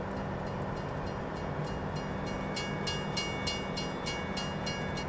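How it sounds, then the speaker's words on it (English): Train rolling along in Farming Simulator 17, a steady wash of rumble and rail noise with faint rhythmic clicks of wheels later on, continuous and without talk. "right now, I think we're just going to park the train over here somewhere"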